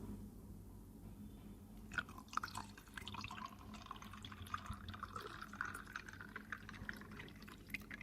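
Cold milk from the fridge is poured over ice cubes for a fennel saunf sharbat, a soft, steady liquid pour with faint dripping and clinks starting about two seconds in and running on, fairly quiet and close.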